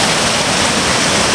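Roaring rapids of Angel Falls on the Big South Fork river, a loud, dense, unbroken rush of white water filling the short moment.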